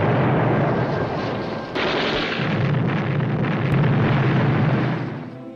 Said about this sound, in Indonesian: Ia kemudian menembak beberapa ranjau sehingga beberapa titik meledak dengan mudahnya.